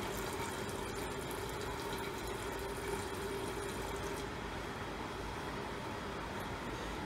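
Waste oil burner with a fine mist nozzle roaring at full throttle, a steady, loud, dense broadband rush that holds constant throughout with no talking.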